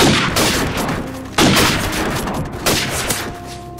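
Gunfire in the PC shooter Call of Duty 4 during a one-on-one match: bursts of rapid automatic shots with two sharper, louder volleys, close and dense, with no talking over them.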